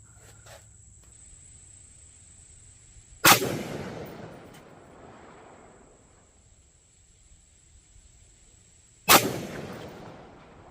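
Two loud rifle shots ring out about six seconds apart at an outdoor range, each a sharp crack with a decaying echo, fired through a CVLIFE 3-9x40 mil dot scope at targets; insects buzz steadily in the background.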